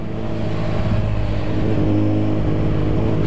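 A 2007 Suzuki Bandit 650 N motorcycle engine runs steadily and loudly up close, holding a dense, continuous drone with slight rises in revs throughout.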